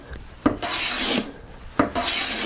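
A hand plane joints the edge of a maple board in two long rasping strokes, each starting with a sharp bite and then a smooth shaving hiss, close and with no talk.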